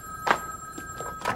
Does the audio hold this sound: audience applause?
no